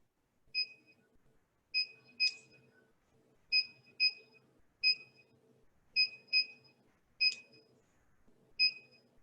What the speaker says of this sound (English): You guys should all be able to hear the clock beeping at you.